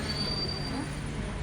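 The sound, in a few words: train stopping at the station, wheels squealing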